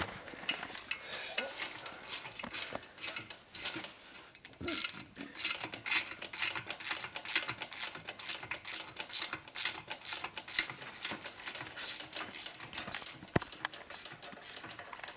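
Massive head bolts are loosened on a 1973 Aermacchi Harley-Davidson X90 90cc motor during a top-end rebuild, producing a long run of quick, close metallic ratcheting clicks and light tool clinks at a steady, busy rhythm.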